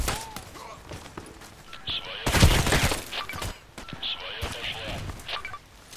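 Gunfire in the online shooter Contract Wars: a burst of cracking shots mid-way with scattered smaller impacts, heard under a player talking excitedly.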